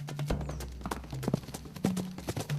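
Horse hooves clip-clopping at a steady walking pace, a series of close, clear knocking steps with occasional low snorts or background animal sounds.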